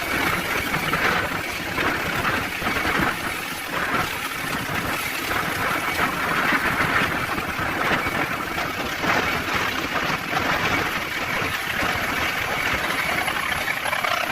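A helicopter hovers low over a small pool while taking on water, its rotor and engine making a loud, steady, broadband roar that continues for the whole stretch.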